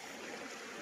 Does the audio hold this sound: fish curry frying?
no